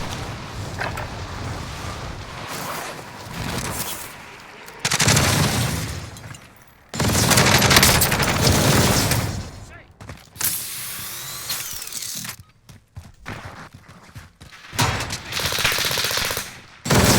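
Video game gunfire rattles in loud, sustained automatic bursts of several seconds each, separated by short pauses, close and harsh, with no voices over it.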